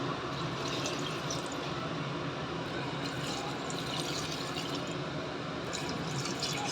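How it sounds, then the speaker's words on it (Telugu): Water is poured steadily into a cooking pot for Chennai-style sambar, a continuous soft splashing rush at moderate distance with no talking. "నెక్స్ట్ వాటర్ యాడ్ చేద్దామండి."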